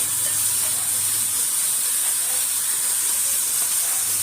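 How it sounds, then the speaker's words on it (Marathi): Finely chopped tomato sautés in a pan for a vermicelli upma breakfast, giving a steady, bright sizzling hiss that stays even and close throughout with no breaks. "हा बारीक चिरलेला टमॅटो हेही चांगलं तीन चार मिनटं परतवून घेऊया"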